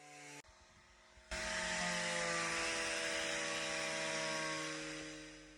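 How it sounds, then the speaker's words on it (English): A wire wheel grinds heavy, pitted surface rust off a metal panel, giving a loud, steady high-pitched whine with a rough abrasive edge. A brief lower motor hum comes first, then the grinding starts and carries on without a break. "I like to use the wire wheel when it gets this bad for the pitting before I switch over to an orbital sander."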